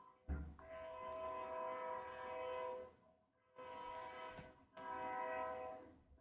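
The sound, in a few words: train whistle blowing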